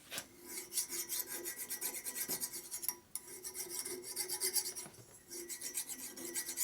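A hand file rasps back and forth across a soft, non-heat-treated steel shaft from a big-bore Harley engine job, steady rhythmic strokes close up, with two brief pauses between runs and no talking.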